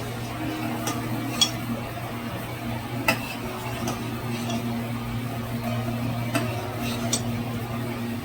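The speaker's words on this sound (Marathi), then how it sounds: "हे जे आहे ते सतत ढवळत राहायचं ना." A spoon stirring a raw mango mixture in a thick-bottomed pot, giving occasional light clinks and scrapes at irregular intervals over a steady background hum, fairly faint and close.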